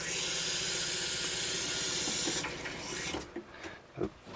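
A hot water tap in a camper van's plumbing hisses and sputters loudly as trapped air blows out of the lines, a steady rush that breaks into uneven spurts and gurgles near the end.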